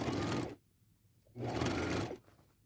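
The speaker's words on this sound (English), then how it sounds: "So then with a zigzag stitch to hide that seam basically and add another pretty detail." A sewing machine runs a zigzag stitch to attach lace to a plain white shirt, whirring loudly in two steady bursts of about half a second and one second with a pause between.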